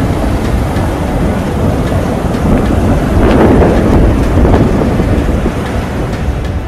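Strong cyclone winds from Cyclone Tauktae batter Mumbai, a loud, steady roar of gusting wind buffeting the microphone throughout with no voices.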